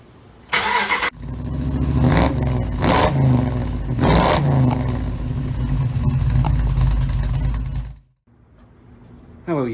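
Remote start of a 2010 Ram 1500 with a Hemi V8 that has a misfire: the engine cranks and catches near the start, then runs loud and steady before cutting off abruptly near the end.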